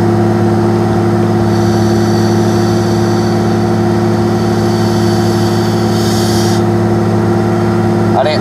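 A car engine idling with an aftermarket eBay radiator and a 10 inch electric fan, giving a steady loud low hum and drone close by, with the fan's whoosh running underneath.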